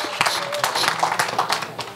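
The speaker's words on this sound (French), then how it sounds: "Can you clap your hand?" A church congregation claps along during a bilingual English-French sermon, a short burst of scattered hand clapping, moderately loud, with crowd noise mixed in.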